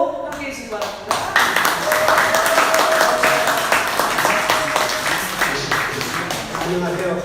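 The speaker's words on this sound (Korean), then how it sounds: "큰 박수로 함께해 주시기 바랍니다." An audience at a Korean patriotic conservative gathering in a church applauds to welcome a speaker, sustained dense clapping from a crowd that builds after the first second and carries steadily to the end.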